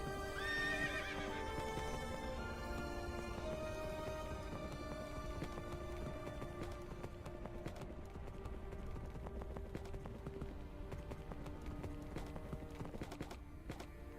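A horse in the Minecraft video game neighs with a loud whinny and then keeps up repeated clip-clopping hooves, all quiet and close alongside game music.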